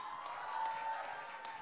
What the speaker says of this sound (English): A round of applause for these lovely people.